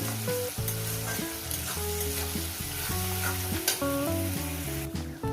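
Salted onions frying in a pan give a constant crackling hiss, with occasional stirring noises, while background music plays throughout.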